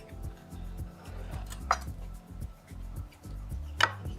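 A knife chops through vegetables such as cucumber on a board in a home kitchen, with a couple of sharper strikes standing out over low steady background hum and clatter, nearby and moderately loud.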